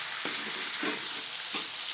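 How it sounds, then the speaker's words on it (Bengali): Tomatoes frying with onions in a pan, stirred with a utensil: a steady bright sizzle throughout, with a few soft scraping stir strokes at regular intervals, close and alone without talk. "টমেটোটা দিয়ে আমি একটু ভালো করে নেড়ে নিচ্ছি।"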